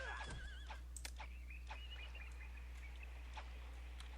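A horse in the strategy game Pharaoh: Cleopatra lets out a wavering whinny at the start, followed by softer neighing calls and light hoof-like clicks over a steady low hum, all fairly faint.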